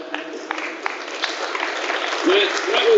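An audience at an alumni athletic hall of fame ceremony applauds an honoree. Broad, steady clapping rises slightly toward the end, with a voice faintly audible underneath.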